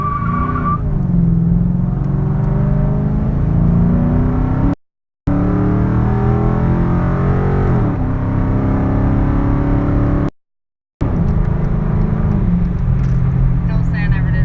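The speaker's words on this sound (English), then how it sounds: "I'm imagining you're all going to hear a little horsepower at the next green light" A Dodge Challenger pulls away from a green light, its engine roaring loudly and rising through the gears with brief gaps between shifts, heard from inside the cabin.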